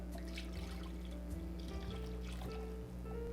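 Homemade au jus pours into a bowl in a soft, steady trickle, faint and close, over a low constant background hum in a home kitchen, with no talking.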